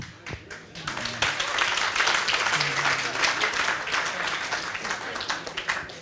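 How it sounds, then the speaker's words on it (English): An audience at a festive reception for a Board of Governors opening in Haifa breaks into sustained clapping after a brief moment of speech, a dense, even patter of many hands close by. "When I'm mouthing it out and the audience is clapping"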